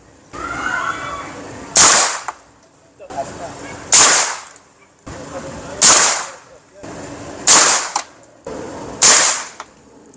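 Five 5.56 rifle rounds fired at bulletproof glass, each a sharp loud crack followed by a short decaying rumble, spaced about two seconds apart, with faint talk before the first shot.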